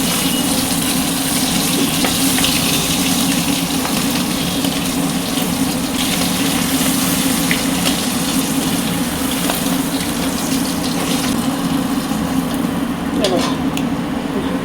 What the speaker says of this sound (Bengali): মাছগুলো উল্টে পাল্টে ভেজে নিয়েছি